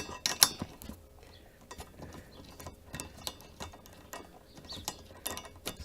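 Ratchet tightening a rear brace bolt on a BMW E90, with steady close clicking strokes in quick repeated bursts at moderate volume, and no talking.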